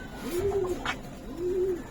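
Giribaz Pakistani high-flyer silver pigeon cooing, two soft rolling coos about a second apart, close and clear with no talk.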